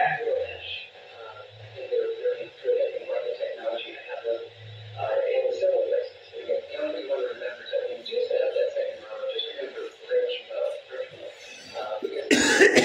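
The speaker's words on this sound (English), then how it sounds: "Coughing up along here." A few short coughs and throat clearings over a faint radio-like background, with people talking intermittently nearby.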